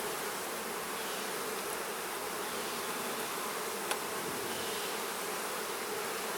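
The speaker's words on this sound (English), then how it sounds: "just give you a little buzz and let you know that they're there" Honey bees buzz steadily around an open hive, a dense, even drone of many wings close by, with a single faint tick partway through and no voices.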